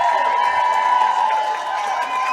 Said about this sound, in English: As you can hear the TCU players filing in, their fans getting loud.